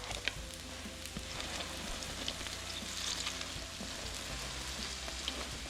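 Hotteok, a Korean sugar-filled pancake, fries in a pan with a steady, close sizzle and crackle that runs unbroken and evenly loud throughout, with no talking.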